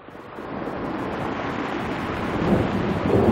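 Heavy rain in the video game Arzak Rhapsody pours down in a dense, steady roar with a deep rumbling undertone, swelling slightly louder toward the end.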